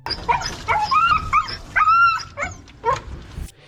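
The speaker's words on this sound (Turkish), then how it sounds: "Yıkanırken öyle sesler çıkartıyorlar ki duyan işkence yapıyorlar sanacak." A dog whimpers and yips during a bath in a series of high, wavering whines and short cries, close by, with no talking.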